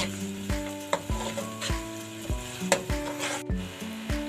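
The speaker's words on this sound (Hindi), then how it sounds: "मैं इसके अंदर लहसुन और अदरक का पेस्ट डाल दूंगी। इसको भी मैं 2 मिनट तक फ्राई कर लूँगी इसके अंदर।" Garlic and ginger paste sizzles steadily in hot oil in a pan for daal mash, with a spoon scraping and stirring in repeated strokes roughly every half second, close and moderately loud.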